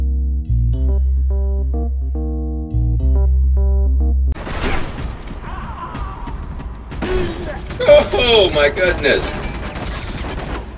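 Gunfire in the video game Rogue Warrior, bursts of shots and clattering mechanical noise after a stretch of low droning game music, with someone briefly speaking over the action.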